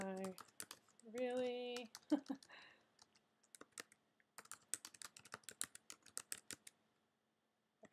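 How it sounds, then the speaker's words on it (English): Fingers tap out a burst of quick keystrokes on a computer keyboard, with a short spoken word partway through and a pause before a second run of crisp typing. "If I can type."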